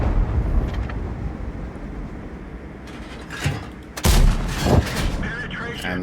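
A tank's magazine-fed gun in World of Tanks fires a few heavy booming shots in close succession over a constant low engine rumble and mechanical clatter.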